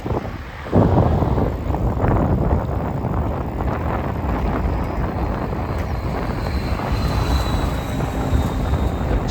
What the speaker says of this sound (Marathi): वारं पण लागायला लागलं